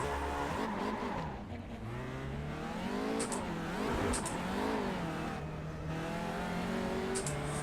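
An Audi RS3 LMS TCR race car in iRacing revs hard through its engine range, pitch rising and dropping with gear changes, with faint tire squeal, loud and continuous with no talk.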